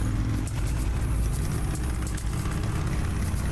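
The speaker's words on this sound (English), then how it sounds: "Car engine sounds. Yeah, a car, a broken car." A broken car engine in the game The Path runs as a loud, continuous low rumble, idling roughly with a steady drone and slight unevenness, close and alone.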